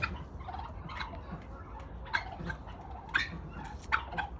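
Several turkeys gobble in short bursts at a moderate distance, over a steady background rumble of barn noise.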